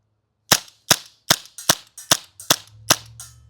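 A WE M712 Mauser gas blowback airsoft pistol fires BBs in eight sharp, loud, evenly spaced shots, each a crisp crack with a short decay, and no talking.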